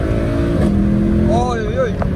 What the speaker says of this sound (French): Petit démarrage. Putain, ça patine.